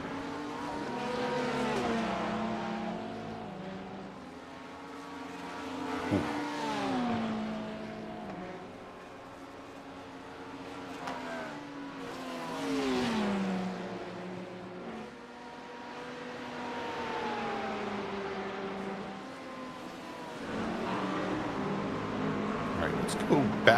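Corvette and Porsche race cars lap Road Atlanta in a sim racing game, with engines rising in pitch through the gears and dropping on downshifts in repeated waves while a commentator talks over them.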